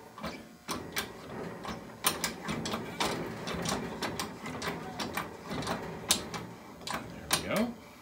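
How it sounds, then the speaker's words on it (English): A King Canada 10 ton hydraulic shop press being pumped by hand, giving a run of clicky ratcheting mechanical strokes with sharp metallic ticks and clanks, fairly close and at moderate loudness, with background noise throughout. "let's give it a couple of pumps and see what happens"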